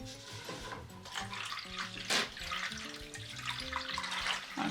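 Hydroponic nutrients are stirred into water in a hydroponics system reservoir, with soft sloshing and trickling under background music, and one brief louder splash midway.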